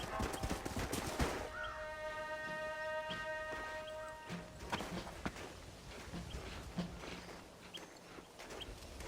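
Horse hooves clip-clop in the Red Dead Redemption video game, a steady walking gait heard at moderate distance over a busy outdoor ambience with a musical tone early on and scattered sharp cracks.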